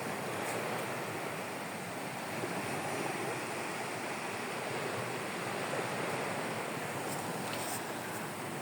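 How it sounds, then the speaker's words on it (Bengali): Sea surf at a coastline near an airport, heard as a steady, soft broadband wash of waves that continues unbroken with no voices. "আমরা যদি কান পেতে শুনি, আমরা কিছুটা শব্দ শুনতে পাচ্ছি সমুদ্রের।"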